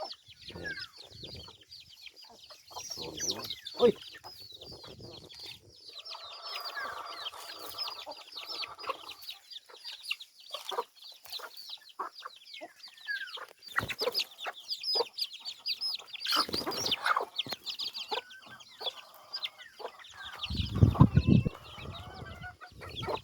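Several chickens clucking and calling nearby in irregular bursts, with occasional louder squawks and rustling, no talking.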